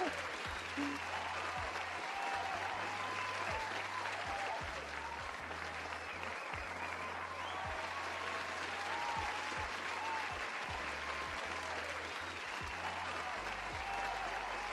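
A room full of people applauds in one steady wave of hand claps that stays loud and dense from start to finish, with no voices rising above it.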